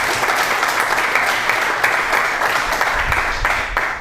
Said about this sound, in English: we'd like to clap for them and thank them for the work right done.